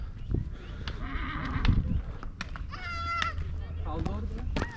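A horse whinnies twice over clopping hooves and background chatter at Dajti mountain near Tirana, Albania, the neighs high and wavering while people talk nearby.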